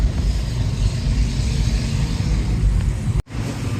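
A Changan Alsvin car runs steadily after its ECM repair, a low, even engine rumble close by that holds for a few seconds, then cuts out briefly before resuming.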